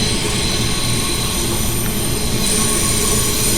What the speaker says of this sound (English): Now around the sharpest bend on the network.